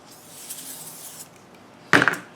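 Short close hiss of silicone spray lubricant applied to a split-rim lawn tractor wheel while mounting a tire and inner tube, one quick burst after a stretch of quiet handling noise.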